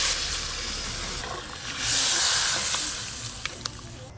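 Water splashed into a hot pan of spiced potatoes, giving a broad hissing rush of steam that swells loudly midway and then eases, followed by a couple of faint clicks.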